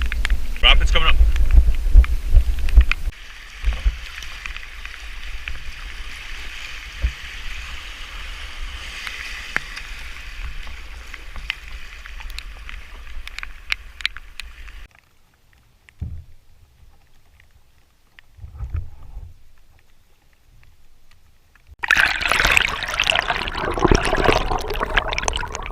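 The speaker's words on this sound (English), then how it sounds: "Rapids coming up." A canoe running rapids on the River Spey, with rushing water and hull slaps loud at first, then a steadier churn, a near-silent stretch with scattered splashes, and a sudden loud surge of white water at the end.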